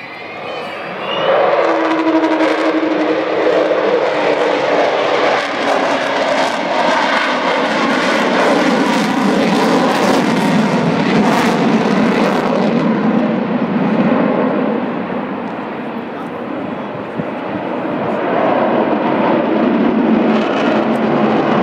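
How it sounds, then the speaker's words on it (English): The Avro Vulcan XH558 bomber flies past at the Dunsfold Wings & Wheels airshow, its jet engines producing a loud, sustained roaring howl that swells, holds for many seconds, then eases slightly as it moves away. "You can tell your grandchildren you've heard the famous Vulcan howl"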